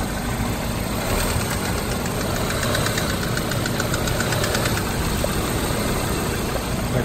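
A car engine knocks as it runs at raised revs, a fault that is silent at idle: a dense metallic rattle riding over a steady loud engine drone, recorded up close with no pause.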